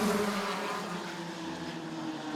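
A pack of USAC midget race cars at Ace Speedway roars off the green flag out of turn four, a distant, buzzing blend of engines under throttle, fairly faint and steady.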